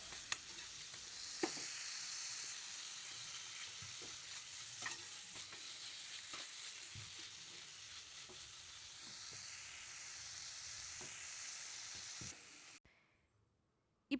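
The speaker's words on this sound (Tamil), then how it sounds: "ஆட் பண்ணி நல்லா எல்லா பக்கம் ஈவனாக அந்த சின்ன வெங்காயம் படுற மாதிரி எல்லாத்தையும் நல்லா கிளறி விட்டுக்கோங்க" Chicken fries with small shallots in a pan, a faint, continuous sizzle broken by repeated scraping stirs, until the sound cuts away near the end; no speech.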